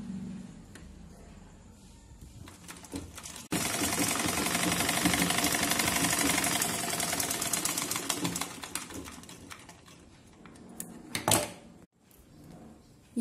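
A sewing machine stitches falls onto a chiffon saree, with a fast mechanical whirring run that starts suddenly, holds for several seconds, then tapers into short bursts and pauses near the end.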